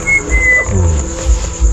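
A thin, steady whistle-like tone rings out briefly in a cemetery, then fades, with low rumbling thumps beneath it and no voices.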